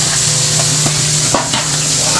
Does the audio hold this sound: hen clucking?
no